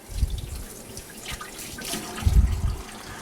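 Lukewarm water poured onto the membrane of a support kit, a close splashing trickle that comes in uneven bursts, heavier at the start and again toward the end.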